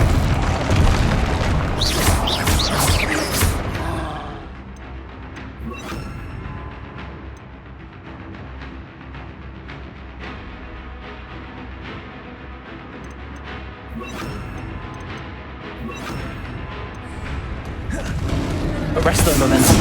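A fiery Confringo spell blast in Hogwarts Legacy booms loudly at the start, followed by a stretch of quieter in-game rumbling and crackles, with another heavy burst swelling at the end.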